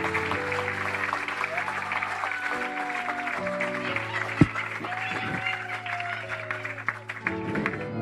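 Congregation applauding during a church service, a dense sustained clatter of clapping with music tones and voices mixed underneath, steady throughout with one sharp louder hit midway.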